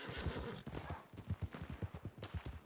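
A horse neighs in the Red Dead-based WildRP game, a whinny followed by steady hoof clip-clops galloping nearby at moderate volume with no talk.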